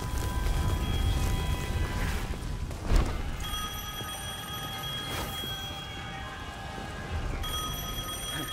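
Telephone ringing in the video game Devil May Cry 5: a steady electronic ring persists through the scene over a dense, noisy game background, with a thud near the middle.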